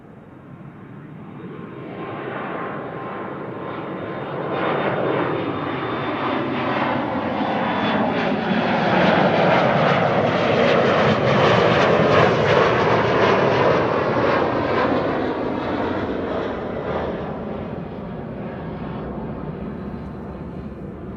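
KLM airliner bound for Calgary taking off from runway 24 at Amsterdam Schiphol, a jet roar swelling from distant to loud and fading again over about twenty seconds, broad and rumbling with no other sounds.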